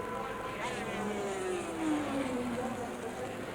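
A 500cc Grand Prix racing motorcycle worked hard through a chicane at the 1987 British Grand Prix, its engine a steady, sustained drone with a pitch that rises and falls, heard from a distance against broadcast background.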